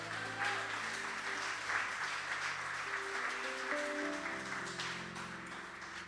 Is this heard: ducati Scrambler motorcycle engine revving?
no